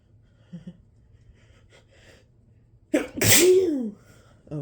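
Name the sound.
induced spray sneezes after turmeric on a Q-tip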